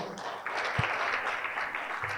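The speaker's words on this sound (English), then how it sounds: "Another round of applause." Audience applause at a closing ceremony, a steady wash of many hands clapping together for a couple of seconds, moderately loud and filling the room.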